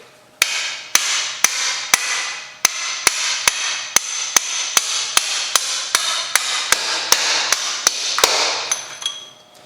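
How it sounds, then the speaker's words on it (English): Repeated metallic hammer strikes drive a punch through a bolt on a Yamaha YZ125 two-stroke motorcycle during teardown, about eighteen sharp, close, evenly spaced taps with ringing tails, with no talking. "we'll go ahead and tap this all the way through"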